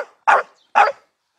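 A dog gives two loud, close barks about half a second apart, each short and sharp, followed by silence.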